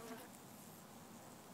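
Honeybees buzz steadily and fairly faintly during a removal of a colony from floor joists, a continuous close swarm hum with no talking.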